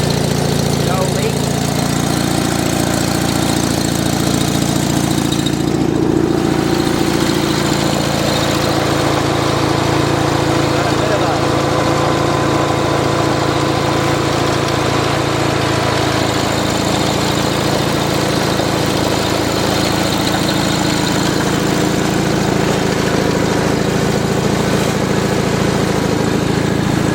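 A Sears engine fitted with a Nelson muffler idling steadily for a long stretch, a loud, even, rumbling drone with hood vibration and no clear change in pace.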